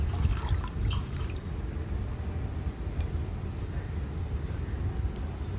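Lime water pours and splashes into a large pot, a continuous liquid rush with small drips and a faint clink at the start.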